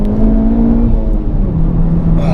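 A 2018 Honda Civic Type R accelerating out of a corner, its engine a loud steady drone heard from inside the car, pitch holding and then easing slightly, with no talking over it.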